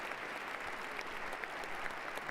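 Dense, steady applause from a large crowd at the 60th presidential inauguration, a continuous roar of many hands clapping at a distance.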